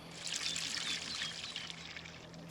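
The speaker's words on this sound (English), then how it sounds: "Now watering the goat." Water pours steadily from a watering can onto garden plants, a continuous bright splashing stream that runs without a break and is heard close and alone.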